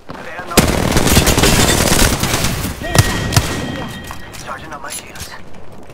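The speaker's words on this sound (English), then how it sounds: "Taking fire." Video game firefight with rapid machine-gun bursts and scattered single shots, loud and close, with a few sharp heavy cracks in the middle. A player talks over the shooting.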